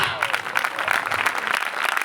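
A church congregation at a worship service claps loudly and steadily, dense continuous applause from many hands filling the room throughout.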